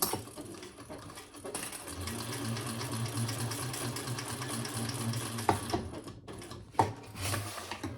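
A sewing machine stitches a navy floral crossbody bag in a steady, fast-running mechanical whir that lasts several seconds, framed by softer handling clicks and knocks before and after.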